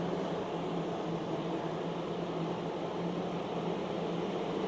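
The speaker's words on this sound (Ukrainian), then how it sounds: "Також плавно можемо додати обертів та вимкнути наш вентилятор." An electric fan runs with its speed set by a cheap voltage regulator, giving a steady, even whirring hum with a low tonal drone and no pauses.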